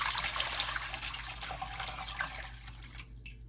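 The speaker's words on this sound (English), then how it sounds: "I'm gonna go in with 8 cups of water" Eight cups of water pouring steadily into a pot on the stove for a Guyanese mauby drink, a close continuous splashing stream that thins and trails off near the end.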